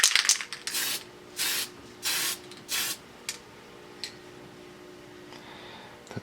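Spray primer is applied to a small AMT Star Trek USS Enterprise model kit in four or five short, close hissing bursts with brief pauses, followed by a couple of faint ticks.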